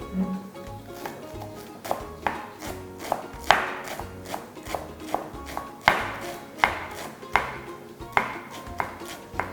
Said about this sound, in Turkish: Son olarak taze baharatlarımı da yine aynı şekilde doğruyorum.